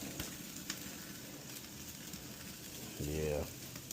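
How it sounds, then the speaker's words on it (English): Picanha sears over high heat on an Oklahoma Joe's vertical smoker. A faint, steady sizzle and hiss runs throughout, with a brief louder burst of noise near the end. "Let it sear."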